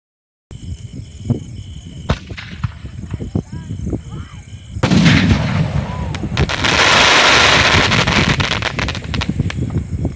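Sonny Fireworks Speed 5 mega-shot aerial display, a rapid string of sharp pops and whooshing launches building into a dense, loud crackling barrage, with voices talking in the background.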